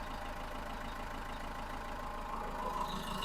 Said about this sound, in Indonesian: suara engine di gas rendah